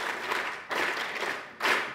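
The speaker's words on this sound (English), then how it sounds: "Clap for him." Audience clapping at a university gathering in Uganda, short bursts of hand claps that swell and drop off in waves, fairly close and without talk.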